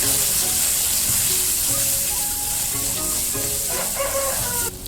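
Onion, garlic, turmeric, chili, cumin and coriander powders with salt sizzle and fry steadily in a pan while being stirred, a loud continuous hiss with faint scraping, cutting off abruptly near the end.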